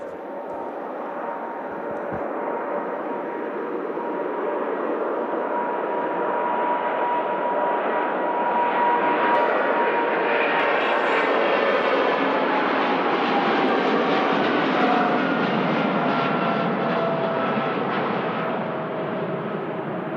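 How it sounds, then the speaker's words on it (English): An Etihad Boeing 777 jet on its takeoff roll at snowy Manchester Airport, a loud, sustained engine roar with rising whine that swells and holds for the whole stretch, heard alone. "But first, Etihad 777 on the roll."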